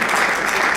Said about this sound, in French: je vous prie d'applaudir bien fort